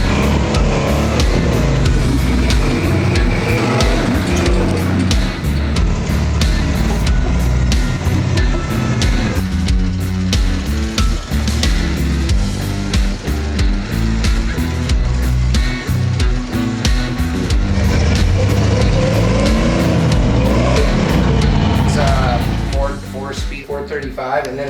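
Muffled Ford 390 V8 with a big cam, fitted in a Jeep-style build, rumbling loud and close with a choppy, lumpy idle and occasional revs, while a person talks over it most of the time.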